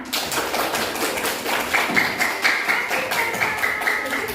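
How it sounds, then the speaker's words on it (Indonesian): Children in a Grade 2 Indonesian-language classroom clap their hands together, a steady, dense patter of many small claps running evenly throughout at moderate loudness. "Mari kita beri tepuk tangan."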